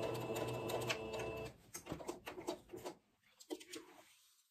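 Sewing machine backstitching a seam with a 1 cm allowance while an invisible zipper is sewn: steady close mechanical stitching for about a second and a half, then a few short uneven bursts of stitching and handling noise, fairly quiet.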